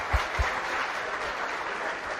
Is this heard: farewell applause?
yes